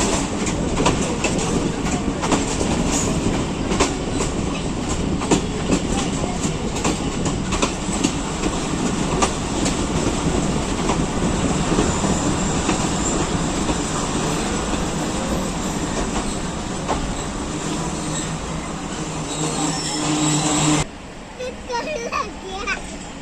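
A Kohat Express passenger train runs steadily on rails in Pakistan, a loud continuous rumble with clickety-clack of wheels over joints. Chatter rises from the carriage, including children's voices, and the noise drops abruptly near the end.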